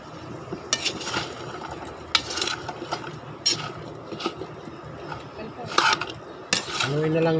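A utensil scrapes and clinks against a pot while pinakbet cooks in coconut milk, in irregular bursts of stirring over a soft simmering background, close and fairly quiet.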